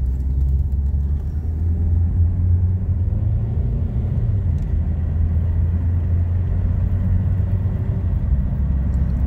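A Ford Focus drives along with a steady, loud engine and road rumble, holding a fairly even tone throughout rather than rising in a clear, distinct acceleration.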